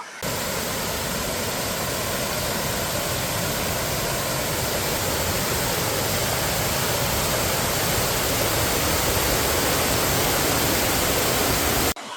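Small waterfalls cascade along the Komoldhoha trail above Chagolkanda falls, a steady, loud rushing wash of water that runs unbroken and close by from start to finish with no voices.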